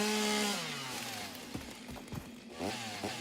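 Chainsaw cutting through trees in the video game Satisfactory, a loud steady motor drone whose pitch drops as the blade bites, with scattered crackles of falling timber.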